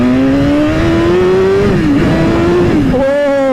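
BMW S1000RR superbike engine revving hard in first gear, a loud, close, continuous high-pitched roar that climbs, dips briefly, then jumps higher again near the end.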